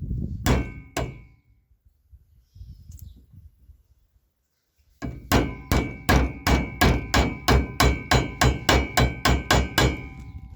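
Metal hammer strikes tapping a U-joint bearing in ring out: a couple of taps, a pause, then a steady run of about a dozen evenly spaced clanging blows.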